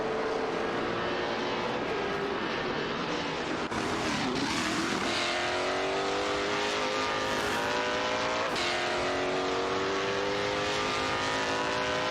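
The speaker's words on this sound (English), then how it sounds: "Wuchi Zero in the BMW M3 E92 GT2 is jostling with Irius John 7 in the Maytech Ford GT G21" BMW M3 E92 GT2 and other GT race cars in an AI-driven racing video game, engines roaring continuously with rising and falling pitch as cars pass close, loud and sustained with brief surges around gear changes.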